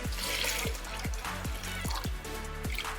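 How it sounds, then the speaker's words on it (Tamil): Water pours steadily into a container of washed moong dal, a continuous splashing flow with bubbling gurgles, close and moderately loud. "இதில் தண்ணி ஊற்றினா போதும்."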